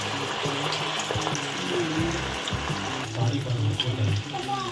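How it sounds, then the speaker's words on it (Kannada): Chicken kebabs crackle and sizzle in hot oil close by, a dense, busy frying sound with occasional clatter of a utensil and bubbling bursts. "ಈಗ ಎಣ್ಣೆ ಕಾದಿದೆ ಕಬಾಬ್ನ ಹಾಕ"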